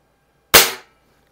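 One sharp crack from an Anschutz model 335 break barrel air rifle, close and loud with a quick decay, alone in quiet.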